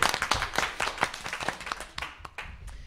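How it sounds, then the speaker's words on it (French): Audience clapping for Hugo at a live comedy-style student event: separate, sharp hand claps in an irregular rhythm, loud at first and thinning out toward the end. "On applaudit Hugo, s'il vous plaît."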